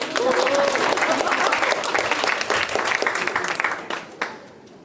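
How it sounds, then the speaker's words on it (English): An audience claps at a book launch, a full, sustained round of applause with some cheering that thins out and fades toward the end. "Let's all clap for Isha."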